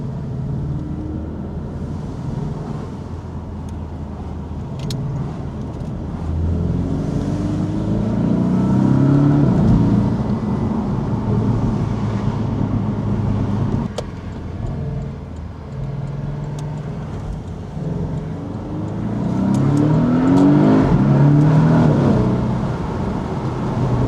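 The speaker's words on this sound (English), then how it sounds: "This car has only 300 horsepower and it's so fast." A 2018 Porsche 718 Boxster of about 300 horsepower drives at speed from the driver's seat, its engine rumbling steadily and swelling twice in rising acceleration pulls, loud and close with no talk.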